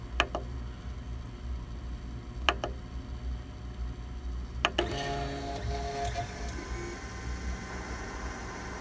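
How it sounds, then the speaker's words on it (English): A Monoprice Select Mini 3D printer homes its printhead, giving faint ticking and a steady whirring motor hum, with a few sharp clicks near the start and a louder whirr of stepper movement toward the end. "I'm going to begin by homing the printhead."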